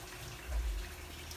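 Lettuce leaves are washed one by one under a running kitchen tap, giving a soft, steady trickle of water that swells briefly in the middle of the short stretch.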